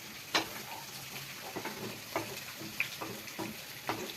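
Fish masala simmering in a pan for meen pollichathu, with coconut milk just poured in, gives a steady close sizzle. A spoon stirs and scrapes it in several distinct clicks. No one speaks.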